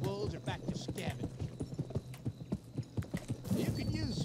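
Horse hooves gallop in the Gun video game on PS2, a quick, steady clip-clop rhythm of many close hoofbeats with a brief whinny, while a person talks over them.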